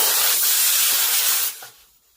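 Air hissing loudly out of a car tyre as its valve core is removed, a steady broadband rush lasting about a second and a half before dropping off quickly to quiet.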